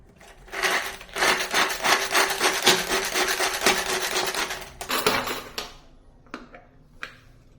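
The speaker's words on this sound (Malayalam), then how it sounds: "അപ്പൊ നമുക്കിത് ചോപ്പറിലോട്ട് ഇട്ട് കൊടുക്കാം ഇതെല്ലാം കൂടെ ഒന്ന് ചോപ്പ് ചെയ്തെടുക്കണം" Shallots and garlic cloves chopped in a kitchen chopper, a busy run of rough grinding and rubbing bursts for several seconds, then a few sharp separate clicks and knocks as it stops.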